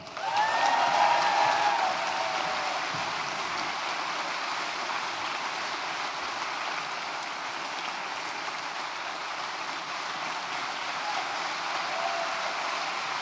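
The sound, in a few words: audience applauding the graduates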